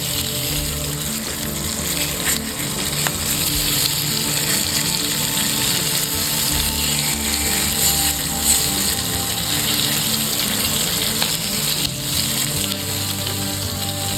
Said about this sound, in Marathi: व त्या दोन्ही बाजूने छान अगदी भाजून घेणार आहोत